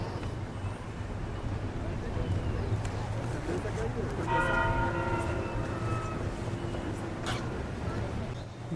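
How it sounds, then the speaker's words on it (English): Church bells ring at a distance in the middle of an outdoor scene, a few clear tones standing out briefly over steady background rumble. "Some church bells ringing."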